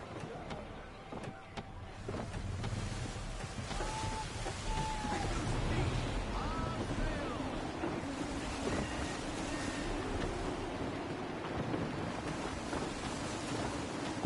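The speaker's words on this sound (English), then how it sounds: "Wind looks to be shifting. Stay alert, Connor. Gusty winds can be difficult to manage." Gusty wind at sea while sailing a ship in Assassin's Creed 3: a steady, moderately loud rush of wind and surf that swells and eases continuously, with faint creaks and tones from the vessel beneath it.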